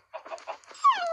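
A dog in Minecraft lets out a clear whimper: a few short soft yips, then a drawn-out, falling high whine that rings on alone near the end.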